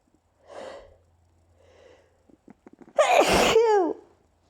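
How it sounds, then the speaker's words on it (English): A single close sneeze preceded by a couple of soft, breathy inhales and a few quick sniffs, then a loud explosive burst that trails off into a brief squeaky exhale. "I have to sneeze."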